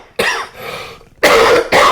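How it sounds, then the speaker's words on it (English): Two sharp, loud coughs from something going down the wrong way, close to the microphone, separated by a brief pause, with a short rasping breath between them. "Oh, hold on, I got a cough."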